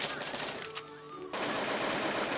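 Automatic gunfire from a blocky video game sounds in rapid bursts, loud and close, with a brief pause before the firing resumes at full intensity.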